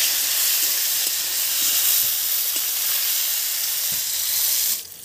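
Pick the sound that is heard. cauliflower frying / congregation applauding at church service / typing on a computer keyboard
cauliflower frying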